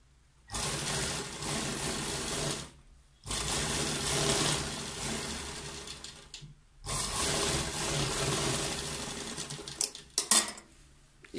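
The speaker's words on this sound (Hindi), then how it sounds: "और अब इसे सिल देंगे।" A sewing machine stitches a cold shoulder sleeve onto a garment in three steady, continuous runs of whirring motor and needle clatter, separated by brief pauses, heard alone at close range.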